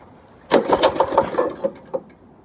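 A mini bike engine with the choke on sputters to life with a burst of uneven, popping firing pulses that fade out after about a second and a half, heard close with no speech.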